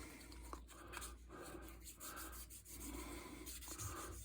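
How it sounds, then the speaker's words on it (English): A wetted model car roof is sanded back and forth by hand, a soft, close, continuous rasp in even strokes with no speech. "start sanding back and forth."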